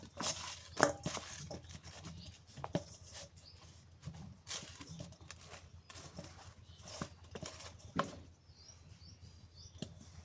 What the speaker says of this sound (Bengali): আর এই পাশে আমি হচ্ছে করলা আলু কেটে দিতেছি